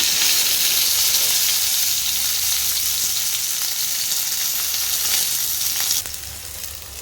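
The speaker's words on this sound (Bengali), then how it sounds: "এবার গ্যাসের উপরে কড়াই বসিয়ে কড়াই গরম হয়ে গেলে অল্প সরিষার তেল দিয়ে পাতুরিগুলো দিয়ে দিব কড়াইতে।" Hilsa fish paturi parcels fry in mustard oil in a kadai on a gas stove, giving a steady, close broadband sizzle throughout that drops slightly near the end.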